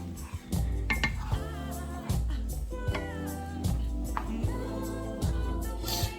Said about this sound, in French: Et ensuite, on doit vite mélanger.